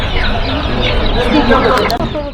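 Chickens clucking close by while people talk over them at a busy outdoor poultry market.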